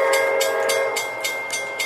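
A train rolls past close by, a steady loud rumble with rhythmic clickety-clack bursts from the wheels repeating about every quarter second, and a sustained horn-like tone running underneath.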